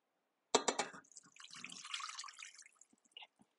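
Water is poured into a cooking pan while making cooked play dough, starting with a sudden splash, then a short irregular trickle of liquid and a few faint drips, quiet and close.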